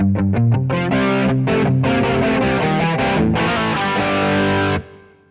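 Distorted electric guitar played through a Kemper Profiler with a detune effect that thickens the higher notes, a loud run of chugging notes and chords that stops abruptly near the end.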